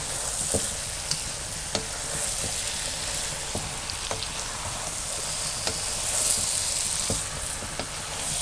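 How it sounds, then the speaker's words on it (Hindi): Potato pieces fry and sizzle in oil in a pan over high flame while a spoon stirs them, a steady loud crackle with repeated scraping clicks of the spoon. "तो इसको हाई फ्लेम पे आप 2-4 मिनट के लिए चम्मच चलाएं।"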